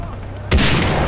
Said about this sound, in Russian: Так, не самый меткий выстрел.